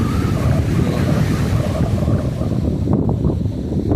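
Sea waves and strong wind at Kattankudi beach, a loud continuous roar of surf with gusting wind buffeting the microphone throughout.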